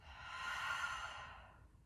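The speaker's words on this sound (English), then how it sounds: "part, release the breath." A slow, deep exhale through parted lips during a yoga breathing exercise, a soft airy rush that swells and then fades over about two seconds, close and alone.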